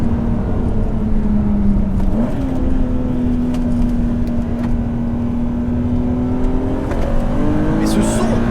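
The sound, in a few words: BMW Z3M Coupé engine revving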